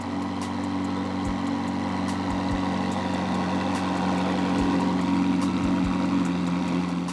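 Lamborghini Urus Performante engine idling nearby, a steady low rumble with a constant hum, faint ticks, and a few brief low thumps, no talking.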